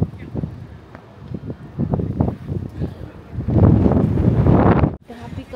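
Gusty outdoor wind buffets an unshielded microphone, rumbling and thumping in uneven bursts that swell louder toward the end, with voices talking in between.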